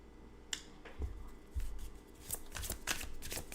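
An oracle card deck being shuffled by hand, giving repeated riffling and slapping card sounds with soft thuds, close and alone without talk.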